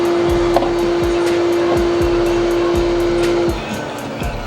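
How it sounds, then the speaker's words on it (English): A Hayward pool filter pump running with a steady whine and repeated ticking pulses, then winding down as the tone cuts out and the noise drops lower near the end. "The pump's going to shut down"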